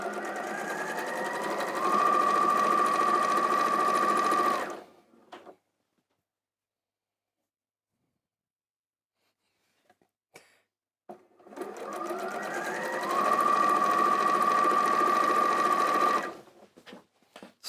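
Sewing machine chain piecing quilt half-square triangles, running in two loud sustained bursts of steady stitching separated by a quiet pause with small handling clicks.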